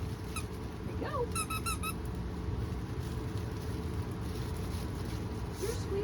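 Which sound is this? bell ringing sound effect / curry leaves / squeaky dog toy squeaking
squeaky dog toy squeaking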